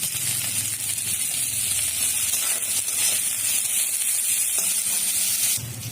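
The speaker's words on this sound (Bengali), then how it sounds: "একটু নুন দিয়ে দিই, তাতে পেঁয়াজটা তাড়াতাড়ি ভাজা হয়ে যাবে।" Salted onions fry in a pan, giving a dense, even sizzle close by that holds steady for several seconds before cutting off sharply near the end.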